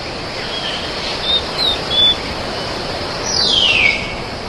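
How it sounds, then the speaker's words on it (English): A steady hiss of jungle insects fills the background while a few thin bird chirps and one longer descending whistle sound at a moderate distance, with no voices. "on this morning, the jungle pulses with the sounds of insects and birds"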